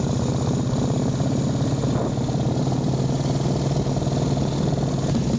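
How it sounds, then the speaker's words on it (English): A pre-war 768 cc motorcycle engine with kickstart runs steadily nearby, a loud continuous throbbing mechanical drone with no talk over it. "This one has got a kickstart where you have to move the foot peg up, fold that out of the way to kickstart it."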